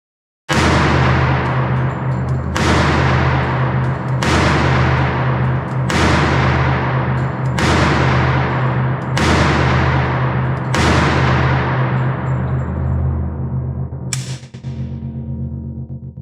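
A Kimber 1911 pistol is fired on an outdoor range with eight-round Kimber Tac Mag magazines, giving loud sharp reports spaced about every one and a half seconds, each with a long decaying echo.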